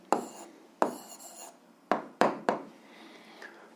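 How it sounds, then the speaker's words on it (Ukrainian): A pen scratching an answer onto paper, several short distinct scribbling strokes with brief pauses between them, close and quiet in a still room. "записуємо відповідь, пишемо відповідь"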